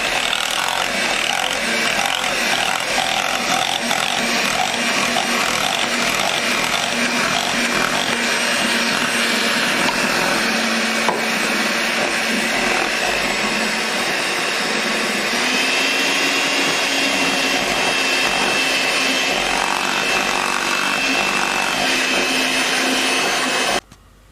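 An electric mixer churns flour into peanut butter chip muffin batter with a loud, continuous whirring drone that holds steady for the whole stretch before cutting off abruptly at the end.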